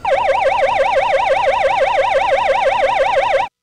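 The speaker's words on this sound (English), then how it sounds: "A warble is our hazmat warning." A warble siren used as a hazmat warning at the Merom and Ratts site wavers rapidly and continuously up and down in pitch, loud and steady for about three and a half seconds, then stops abruptly.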